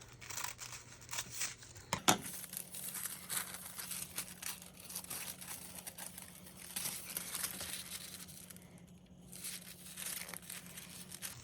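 Big scissors cutting collage paper for a craft project: quiet crinkling and rustling of paper with a sharp snip near the start, then softer handling sounds.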